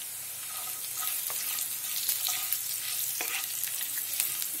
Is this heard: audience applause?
no